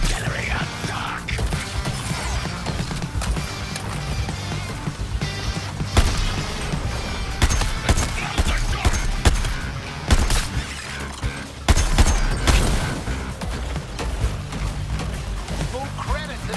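Artillery gunfire and other combat noise in the video game Suicide Squad Kill the Justice League, sustained rattling bursts and impacts over a busy, loud soundtrack, with voices talking throughout.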